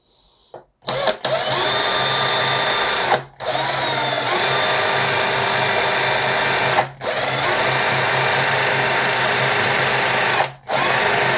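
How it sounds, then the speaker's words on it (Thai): An electric drill with a freshly resharpened bit bores into steel, running loud and close in long high-pitched bursts broken by three brief pauses, after a quiet start. "เดี๋ยวลองมาเจาะดูอีกรอบนะครับ ว่าจะเจาะเหล็กได้ดีกว่าเดิมหรือเปล่านะครับ"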